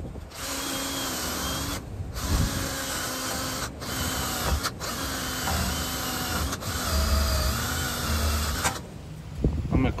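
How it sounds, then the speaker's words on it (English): A power-driven wire wheel grinds against the rear brake hub surface of a 2014 Toyota Tundra, a loud, sustained rasping whir with brief pauses and slight changes in load. "We're gonna clean this surface with the wire wheel."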